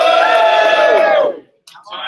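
Audience at a startup pitch competition grand final in Brisbane cheering on a count of three, a loud burst of massed whoops and yells lasting over a second, then cutting off sharply, followed by a brief lighter trailing shout.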